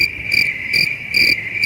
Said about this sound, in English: they got crickets